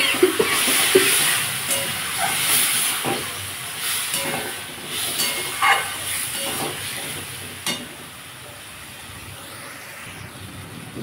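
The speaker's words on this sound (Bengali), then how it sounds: "এই মিক্সির বাটি দেওয়া জলটা দিয়ে দিলাম।" Water poured from a mixer jar into a hot pan of pointed gourd and potato curry hisses loudly at first. The sound turns into a bubbling sizzle that fades toward the end, with occasional stirring clinks.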